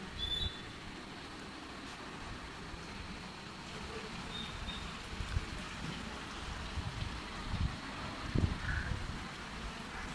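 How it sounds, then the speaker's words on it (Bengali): Steady rain falls outside a home kitchen area, a soft continuous patter with occasional louder drops and faint background noises, no talking. "বৃষ্টি"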